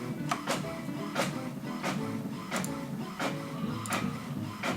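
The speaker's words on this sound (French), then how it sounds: "Moi j'essaie d'imprimer ce que je peux" A household printer runs steadily at close range, its mechanism whirring with a repeating series of sharp clicking strokes roughly every second, with no talk.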